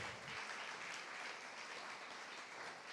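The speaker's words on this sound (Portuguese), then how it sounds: "Pode aplaudir o Senhor." A church congregation applauding, a dense, even roar of many hands clapping that stays steady for the whole stretch, heard quietly from a distance.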